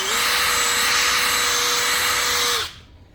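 A cordless drill buffing car paint whines at a steady high pitch for a few seconds, then cuts off abruptly, leaving a quiet fading hum.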